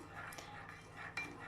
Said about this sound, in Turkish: Bunu böyle güzelce bir karıştırıyorum.